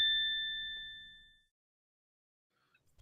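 A single clear notification ding from a phone rings out and decays smoothly over about a second and a half, followed by near silence and faint rustling.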